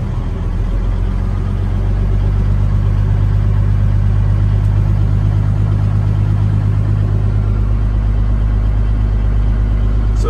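A 1986 Kenworth W900 truck engine idles nearby, a steady, loud, deep diesel rumble with constant low drone and no revving, heard alone for the whole stretch.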